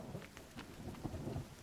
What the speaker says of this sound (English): Hey, we got some rain.